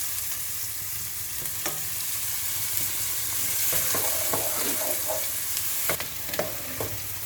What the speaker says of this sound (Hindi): अदरक लहसुन फ्राई हो रहा है हमारा